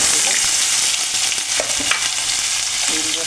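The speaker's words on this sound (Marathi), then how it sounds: "आणि कांद्याची आणि टोमॅटोची पेस्ट पनीर फ्राय करून घेणार" Paneer frying in a pan, a dense, steady sizzle with scattered pops and scraping stir sounds running loud and close for the whole stretch, with no talking.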